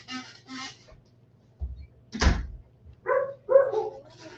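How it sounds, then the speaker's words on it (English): A door is pushed shut indoors, giving one solid thump with a brief rattle partway through, followed by a short knock and then speech. "I'm going to shut the door here."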